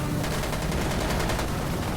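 An AK105 Zenitco rifle fires in the video game Insurgency: Sandstorm, producing a loud, continuous automatic burst of rapid gunshots that lasts the whole moment.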